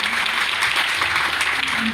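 A crowd at a student showcase event claps loudly and continuously, a dense, even roar of many hands with no pauses.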